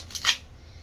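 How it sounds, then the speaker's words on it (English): Oracle cards being shuffled in a quiet room: a single brief riffling swish, soft and close, over a faint low hum. "Let me give them a shuffle."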